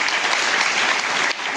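A school audience applauds to welcome two guests at a book-outreach event, dense steady clapping from many hands throughout, fairly loud, dipping slightly near the end.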